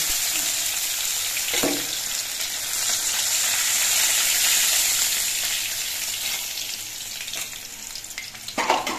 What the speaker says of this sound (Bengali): বাকি মাছগুলো একইভাবে ভেজে নিচ্ছি।